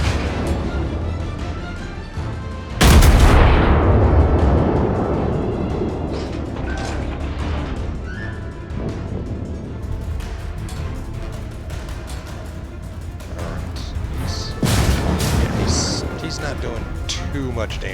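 Warship turrets fire in a naval battle video game, with two heavy booming salvos, one near the start and another later, set over continuous game rumble while someone talks throughout.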